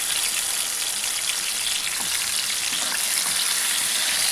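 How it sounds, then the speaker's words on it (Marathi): Ground onion-tomato masala sizzles loudly and steadily in hot oil in a pan on the stove, an even frying hiss with faint stirring scrapes. "चांगला असा मस्त परतून घ्यायचा आहे आपल्याला"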